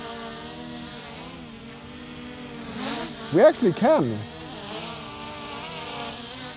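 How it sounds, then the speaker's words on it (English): A DJI Mini drone flying without propellers gives a steady insect-like buzz like a bee, droning on, with a brief burst of speech over it partway through. "It sounds more like a bee."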